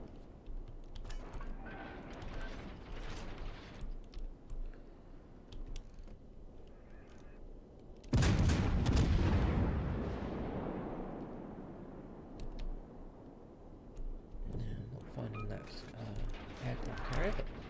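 Naval artillery fire from a warship in World of Warships booms loudly, a sudden heavy blast that rolls and decays over several seconds amid ongoing game sounds, with someone talking before and after.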